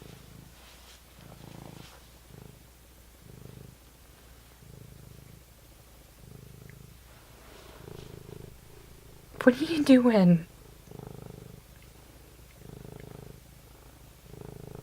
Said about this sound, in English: He's very much a ragdoll cat.